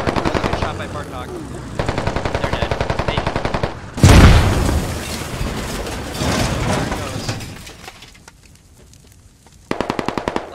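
Bursts of rapid machine-gun fire in the game Squad rattle in repeated volleys, a loud explosive blast in the middle, then fading rumble before another burst at the end, with a voice talking over it.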